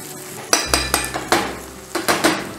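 Egg mixture being stirred in a pan over a medium flame, a utensil clinking and scraping against the metal in a string of sharp, close, evenly spaced strokes, with no voices.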